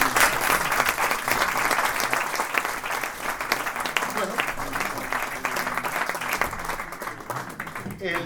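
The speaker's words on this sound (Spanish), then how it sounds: "Un aplauso a tu vida." Sustained applause from the audience at a tribute event honoring Saturnino Ruiz de Loizaga, dense steady clapping that fills the room and eases slightly toward the end, with voices faintly underneath.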